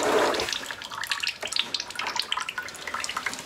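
Transmission fluid from a Toyota 4Runner pan is poured into a container, making a close, splashing, gurgling liquid pour that starts heavy and turns to uneven trickles and drips.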